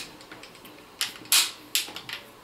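Amazon Basics 67-inch tripod leg snapping into its first locking click, a few short sharp plastic clicks and snaps spaced over a couple of seconds, close and fairly quiet with no talking.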